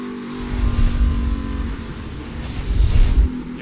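NASCAR stock cars race around the short Martinsville track, engines roaring and revving in surging waves as they pass close by, loud and unbroken, with no talk.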